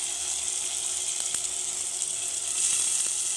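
Prawns, drumstick pieces and potato sautéing in a pan for prawn kulambu give a steady, moderate sizzle that carries evenly throughout, with a few faint clicks and a slight swell near the end.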